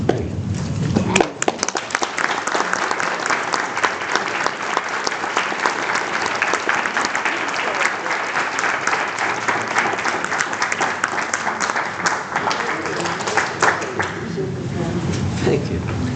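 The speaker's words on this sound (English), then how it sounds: "We just gave them a big round of applause." Audience applause for authors Will and Chris at an author event, a full, sustained round of clapping that starts abruptly, stays loud and dense for over ten seconds, then tapers slightly near the end.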